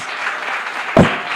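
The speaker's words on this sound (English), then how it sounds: "Let's give them a round of applause" Audience at a nursing and midwifery university quiz competition clapping, a continuous wash of many hands with a brief louder burst near the end.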